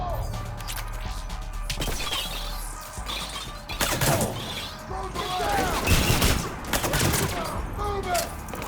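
In the video game Mass Effect 3, a grenade blast and a dense burst of gunfire crackle and boom through a loud, busy battle, with voices shouting amid the shots.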